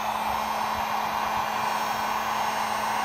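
A heat gun blasts steadily against a car badge on a Ford Escape SVT, a continuous airy roar with a constant hum running through it, close and unbroken throughout with no talk.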